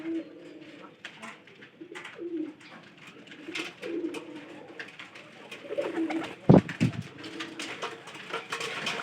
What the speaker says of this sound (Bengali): আমি ডিশের মধ্যে পানি দিয়ে গোসল করাই।